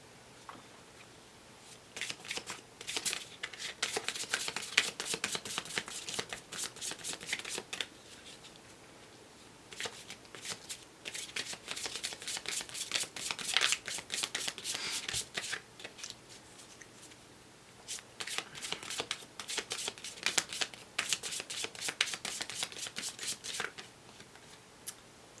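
Tarot and oracle cards are shuffled in repeated crisp, riffling bursts, close and fairly quiet, with short pauses between rounds and no voices.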